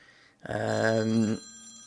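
A telephone rings once in a short burst of about a second, a loud buzzing ring with a warbling edge, heard during a World of Warcraft dungeon run with no one talking.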